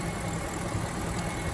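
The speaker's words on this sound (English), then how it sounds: "You can actually hear the cams breathing beautifully. Electric solenoids doing their job on the engine." A 2004 BMW E53 engine idles steadily at close range after a refresh, a constant mechanical hum with faint ticking from the cams and solenoids, no voices.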